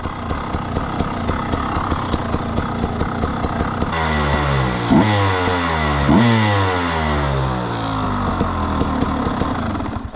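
A small Husqvarna KTM dirt bike being run in on an enduro and motocross track, its engine idling with a rapid popping beat before revving up and down in loud, close bursts.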